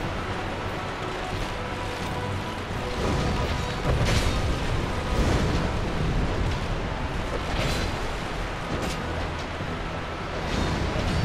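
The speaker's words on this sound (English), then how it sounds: "Stop shooting fireballs at me." Fireballs burst and roar during a skeleton lord fight in Dark Souls 2, several booming eruptions rolling one after another over a continuous dense rumble.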